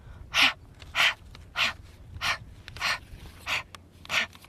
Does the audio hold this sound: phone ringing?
no